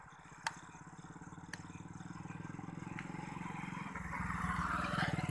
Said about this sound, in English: A vehicle is passing, that's why.